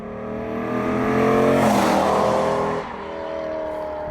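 A car engine pulls in a higher gear from very low RPM up toward redline, its harmonic drone rising and swelling loudly, then dropping back to a steadier tone; no voices.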